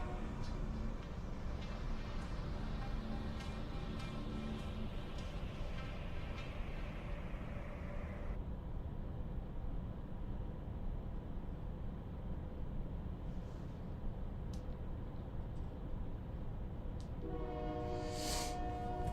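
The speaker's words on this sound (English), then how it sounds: "Of course there's a train going by when I'm trying to stream." A train passes close by, its rumbling wheels steady throughout while a horn sounds in long tonal blasts, fading and then returning near the end, with no talk over it.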